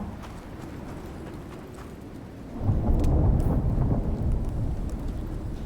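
Thunder rumbling through a lightning storm in the survival game Icarus, with steady rain noise giving way to a louder, deep roll at the midpoint that keeps rumbling to the end, heard alone without talk.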